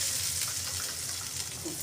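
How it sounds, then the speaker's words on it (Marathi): A tempering of spices and red chilli, poured hot into a fasting-style chutney, sizzles in one continuous, fairly loud hiss that holds steady for the whole moment. "फोडणी आता ही चटणीमध्ये घातली"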